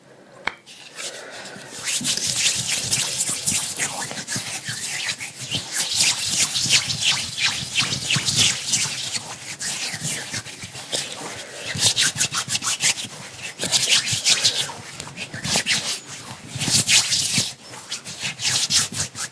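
No-rinse hand cleansing gel rubbed between hands, close and intimate, giving a continuous wet, slippery friction with soft squelching swells that rise and ease over about twenty seconds, with no talking.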